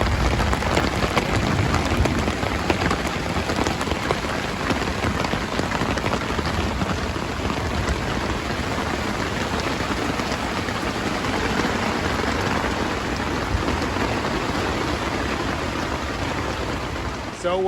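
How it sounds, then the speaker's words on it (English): Heavy rain pours steadily and loudly on a woodland camp in Florida as a thunderstorm arrives, a dense unbroken hiss lasting throughout with no distinct thunderclaps. "it sounds like I got one hell of a thunderstorm coming my way"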